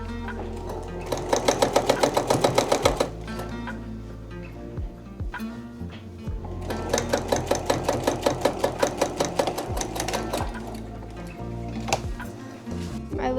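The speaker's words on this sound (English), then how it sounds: "We'll sew 1/4 inch from the edge on both sides," Sewing machine stitching a denim jeans pocket bag seam, running in two long rhythmic bursts of rapid needle pulses with a pause between, close and fairly loud.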